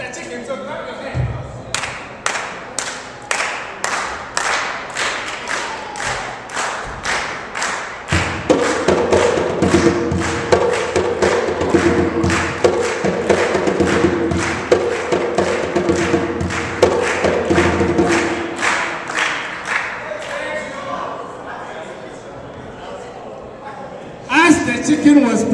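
An audience claps hands along with a drum at a multicultural day event, starting as sparse single claps and thumps, then swelling into a steady rhythmic clapping with a deep drum pulse, with voices underneath.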